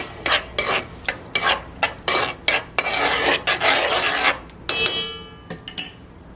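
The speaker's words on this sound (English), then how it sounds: "And we're going to mix." Rice and beans for Arroz Moro are mixed in a pot with a spoon, giving loud, close, repeated scraping strokes in a steady rhythm, then a rougher continuous scrape and a few clanks against the pot.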